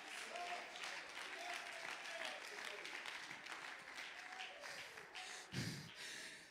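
A church congregation at a Sunday evening service claps in praise, a dense, sustained patter of many hands filling the room, with voices and breaths mixed through it and one sharper burst near the end.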